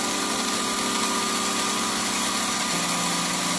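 Brushless motor from an upgrade kit running steadily at its lowest speed, a constant close mechanical whine with a steady hum that drops slightly in pitch near the end.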